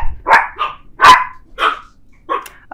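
Dogs bark at an open front door while a neighbor boy plays basketball outside: five loud, close, separate barks in an irregular rhythm, with no talking.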